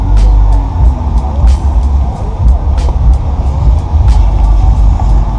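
A lowered Chevrolet Corsa on air suspension pulls away at a rainy night car meet, with a loud, steady low engine rumble and a few brief sharp hisses over it.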